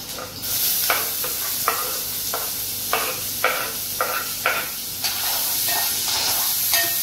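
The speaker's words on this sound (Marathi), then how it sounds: "आता आपल्याला टाकायचा आहे कांदा." Chili and onion fry in a pan for a spicy Agri-style Maggi masala, a steady close sizzle broken by repeated scraping stirs of a spatula.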